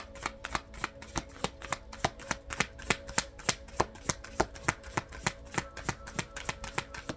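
Crystal energy oracle cards are shuffled in a steady, rapid rhythm of crisp riffling slaps. Each beat repeats evenly for several seconds, close up and with no voices.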